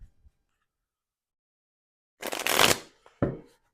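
A deck of playing cards is given a quick shuffle, a close riffling burst followed by a short tap as the cards settle, after near silence.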